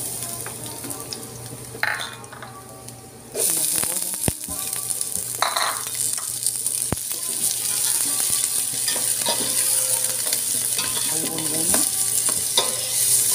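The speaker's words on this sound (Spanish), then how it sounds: "Como mi cazuela ya está precalentada, le vamos a agregar el ajo." Garlic hitting hot oil in a preheated cazuela, a sudden bright sizzle bursting in after a few seconds of quieter handling, then a constant crackling fry with occasional stirring scrapes and utensil knocks.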